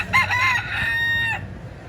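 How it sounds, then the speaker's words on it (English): A rooster in Key West, Florida crows once, close and clear, a drawn-out cock-a-doodle-doo lasting over a second before fading into quiet. "Let's get one more crow out of this guy."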